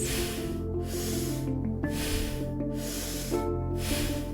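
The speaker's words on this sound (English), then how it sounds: "Take your last 3 breaths." Sharp, forceful breaths of Kundalini spinal breathwork repeat in a steady rhythm, close and fairly loud, several bursts of airy hiss over a low background drone, with no talking.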